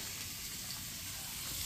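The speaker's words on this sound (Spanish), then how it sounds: "Vamos a poner la cebolla y el chile que ya está picado." Chopped onion and chile fry in pork lard, giving a soft, steady sizzle that stays fairly quiet and even throughout.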